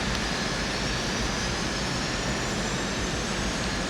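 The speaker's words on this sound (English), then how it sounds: "Start left engine." Lockheed SR-71 Blackbird jet engine starting on the ground, a loud, dense, unbroken roar with a faint rising whine above it, steady from start to finish.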